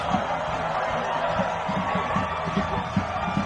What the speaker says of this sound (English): And now listen to that crowd, Brian.